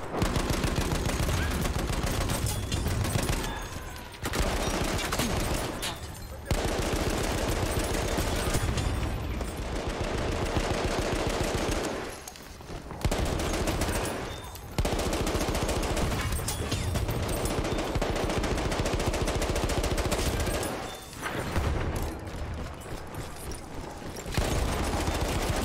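Gunfire in the World War I shooter game Battlefield 1: loud, dense rapid-fire bursts and repeated shots roll on almost without pause, with brief lulls between volleys.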